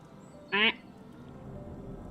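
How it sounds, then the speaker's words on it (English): A single loud, buzzy duck quack sounds in the video game Final Fantasy XIV, short and near, standing alone over quiet low background hum. "Other forms of quacking."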